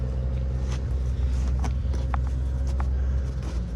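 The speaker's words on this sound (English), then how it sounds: "Fellow just fired up one of those Olivers over there. It sounds really good." An Oliver tractor engine idles at an outdoor equipment auction, a steady low rumbling drone with a regular throb, fairly close and continuous, with faint clicks and knocks on top.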